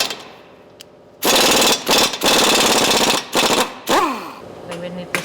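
An impact tool hammers at the lower arm ball joint bolt on a 2015 Honda Accord during front strut work, loud close bursts of rapid rattling with short pauses and a brief whine between them.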